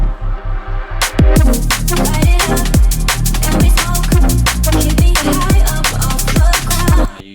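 A liquid drum and bass drop kicks in after a soft intro: fast breakbeat drums, deep rolling bass and bright layered synths, loud and driving.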